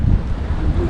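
Wind at sea buffeting a small fishing boat, a brief, loud, rough gusting roar against the microphone, heavy and continuous with no voices.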